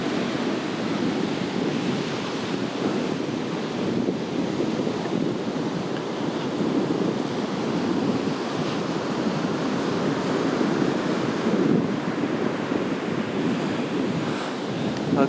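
Ocean surf rolls onto Humboldt State Beach near Orick, California, a steady, loud wash of breaking waves with wind buffeting the microphone throughout and no voices.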